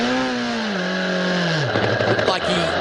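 Number 69 Lamborghini race car engine at high revs, its pitch falling as it misses a gear, then a rough, scraping, uneven drone; a commentator talks over it.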